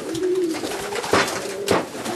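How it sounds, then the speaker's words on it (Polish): Racing pigeons coo in low, drawn-out repeated calls close by in a loft, broken by a couple of sharp flutters or knocks. "to są takie, widzimy, gołębie szpaki w większości"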